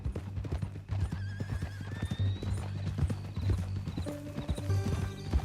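Horse hooves clip-clop steadily over a low music bed in the Western video game Red Dead Redemption 2, with a horse's whinny rising partway through and again near the end.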